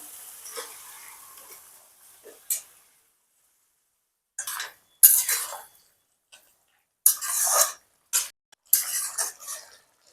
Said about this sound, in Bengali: এবার ভালো করে মশলার সঙ্গে মিশিয়ে নেব।